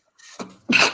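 A single sharp human sneeze, a short inhaled build-up then a loud burst, heard close and alone with no talking.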